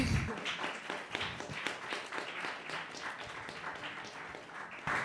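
Quiet audience applause at a talk on Kazakhstan, a scattered run of handclaps that thins out, with a sharper burst of claps at the end.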